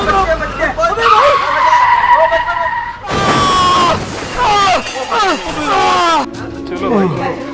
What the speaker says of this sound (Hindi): अरे गाड़ी आ रही है भाई